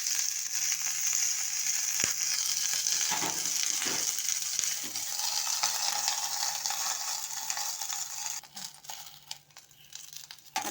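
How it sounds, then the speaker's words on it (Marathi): Green chilies fry in a few spoonfuls of oil in a covered pan, a steady close sizzle with scattered crackles and pops and a few clinks toward the end, no voices. "दोन तीन चमचे तेल घालायचं आणि आता थोडंसं झाकून द्यायच्या."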